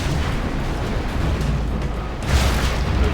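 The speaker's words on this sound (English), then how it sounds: "Arming cruise missile." Tomahawk cruise missile launch in Command & Conquer Generals: a dense roaring rumble builds into a louder whooshing surge near the end.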